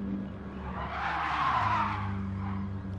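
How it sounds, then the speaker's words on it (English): Tires squeal through a sustained skid as a race car drifts in a video game, the screech swelling to a loud peak mid-way over a steady engine drone, with no talking. "I think McCrud unintentionally had a little drift action."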